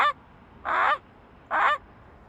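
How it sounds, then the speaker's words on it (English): A Canada goose honks three times, each a loud nasal call spaced with short pauses, close and alone. "The Canada goose."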